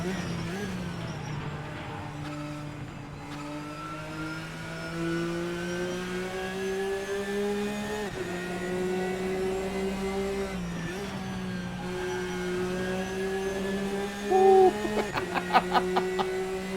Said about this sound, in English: These cars sound amazing